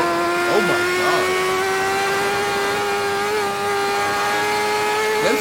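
A BMW HP4 Race motorcycle from 2017, heard onboard, holds a loud, steady, high-revving engine whine that climbs in pitch throughout, close and continuous.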